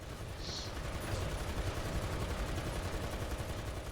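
Tank machine gun fires in a video game, a dense continuous rattle of rapid shots sustained throughout at steady moderate loudness, with no talk.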